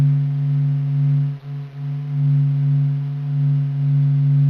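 Sun's vibrations recorded by the SOHO spacecraft, sped up 42,000 times into audible range: a steady, low droning hum with sustained tonal layers and a brief dip midway, continuous and fairly loud.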